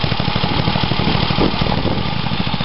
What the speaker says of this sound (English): Ride the lawnmower.